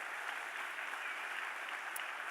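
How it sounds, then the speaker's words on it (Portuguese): A church congregation claps together in steady, even applause during a sermon, heard at a moderate distance as a continuous wash of hand claps. "Você pode dar uma salva de palmas a Deus por essa graça?"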